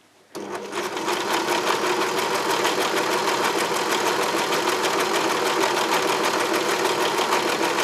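Sewing machine running steadily while stitching fabric along a straight line for a cloth pad, a continuous close whirring hum that starts abruptly and holds at an even level throughout.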